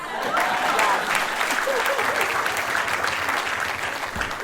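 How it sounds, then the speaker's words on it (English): An audience claps at a community awards event, a dense, even burst of applause from many hands lasting several seconds. "Yes, that is a clap."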